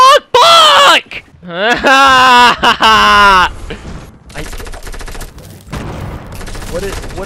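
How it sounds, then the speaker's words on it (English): Bursts of rapid SMG gunfire from Fortnite Battle Royale rattle in dense volleys after a loud, shouting voice, with game effects and mechanical clatter filling the second half. "Is that the new SMG?"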